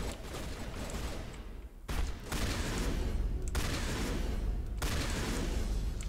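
Shotgun fire from a first-person shooter session in Mass Effect 1, with a few heavy blasts breaking up dense, continuous battle noise, loud and close, with no voices.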